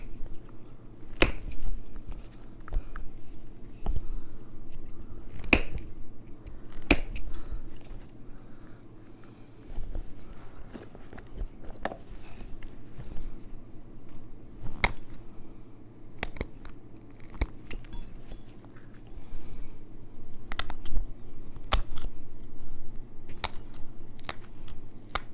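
Flint knapping as a stone point is flaked and notched by hand, with sharp, irregular clicks and ticks of stone on stone scattered throughout, close and clear over a quiet low hum.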